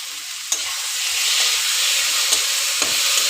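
Potatoes sautéing with spice paste in a hot pan, loud continuous hissing sizzle with a few sharp spatula knocks as they are stirred, no speech.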